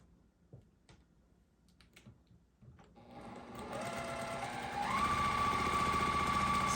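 After a few quiet handling taps, a sewing machine starts up stitching a quilt block seam, its motor whirring steadily and speeding up partway through, loud and close.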